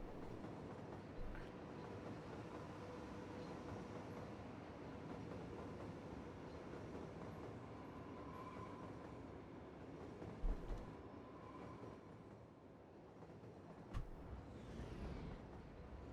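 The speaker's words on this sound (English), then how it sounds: "Alright, everybody gets onto the Shinkansen." A Shinkansen bullet train runs in the Cities: Skylines city-building game, a quiet, steady rail rumble broken by a few soft clanks and clicks, with no talking.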